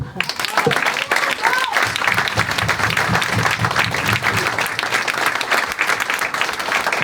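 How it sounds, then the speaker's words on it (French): A crowd at a mayor's New Year greetings ceremony in Aubervilliers applauds. Dense, continuous clapping stays loud and steady throughout, with some cheering mixed in. "je vous demande de les applaudir"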